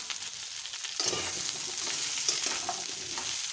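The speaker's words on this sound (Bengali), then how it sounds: "ভালো করে একটু তেলের মধ্যে নাড়িয়ে চাড়িয়ে নেব।" Potatoes and pointed gourd being stirred in hot oil in a pan, giving a steady close sizzle with scraping stir sounds throughout, no talking.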